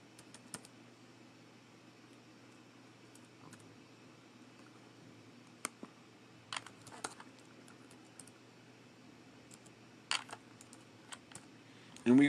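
Keys tapped on a computer keyboard while entering a search, a few scattered soft clicks and short bursts over a quiet background hum, with a louder clatter at the very end.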